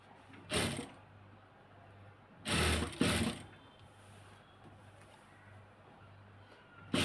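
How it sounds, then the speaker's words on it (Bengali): A sewing machine stitches fabric in three short, loud mechanical runs with quiet pauses between them, the last starting just as the clip ends. "এটাকে ঘুরিয়ে এভাবে সিলে দিতে হবে।"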